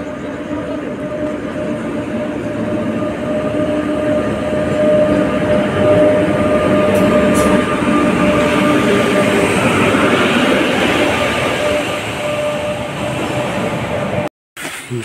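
The Utkal Express rolls into a railway platform, a loud continuous rumble of wheels and carriages with a steady mechanical hum, holding strong for most of the stretch before a brief abrupt break near the end.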